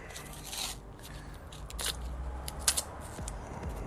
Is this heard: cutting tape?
yes